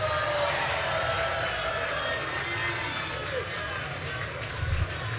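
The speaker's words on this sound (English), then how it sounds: "You hear that cheer for you." A large convention crowd at a National Action Network event cheers for Joe Scarborough, with a sustained broad roar of applause and voices that stays steady, then eases slightly toward the end.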